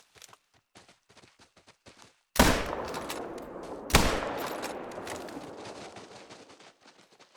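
Rifle shots at stags in theHunter: Call of the Wild, set in the Hirschfelden reserve: two sharp, loud reports about a second and a half apart, each ringing out and decaying, with soft footsteps before them.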